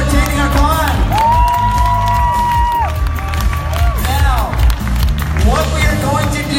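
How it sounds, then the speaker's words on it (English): A large crowd at Salt Lake Comic Con claps, cheers and whoops loudly for visiting celebrities, and the continuous roar is broken by rising shouts. "Please give them a huge round of applause and thank them for attending our con."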